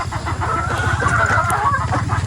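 Chickens cluck inside their coop on a free-range farm, a close, dense chorus of rapid, overlapping clucks.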